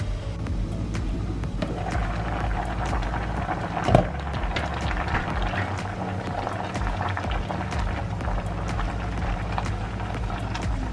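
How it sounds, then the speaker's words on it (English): Chicken, broccoli and corn simmering in a pot give a steady bubbling hiss with soft pops, continuous and close, plus one brief knock partway through. "we'll give that one a mix and let it simmer"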